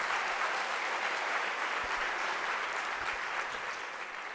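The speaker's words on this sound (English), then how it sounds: "Can we give them a round of applause?" A graduation ceremony audience applauds in a dense, steady wash of clapping that stays loud and continuous throughout, with no pauses or voices breaking through.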